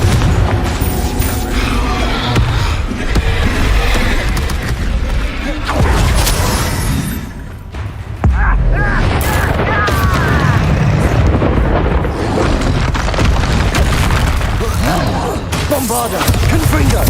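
Bombarda and Confringo explosive spells in the Hogwarts Legacy video game, a dense, continuous barrage of loud booms, blasts and crashing impacts with only a brief dip in the middle.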